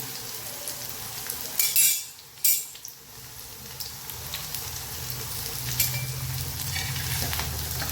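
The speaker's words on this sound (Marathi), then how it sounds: "या पद्धतीने छान मस्त वड्या अशा तळून घ्यायच्या." Taro leaf vadi frying in oil, a continuous crackling sizzle interrupted by a couple of spatula scrapes and clatters as pieces are turned, then settling back into a steady fry.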